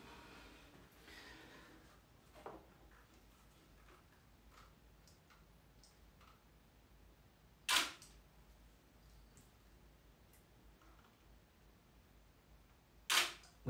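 A camera shutter clicks during a food photography shoot of a gin and grapefruit cheesecake, two sharp loud snaps several seconds apart among fainter handling taps in a quiet room.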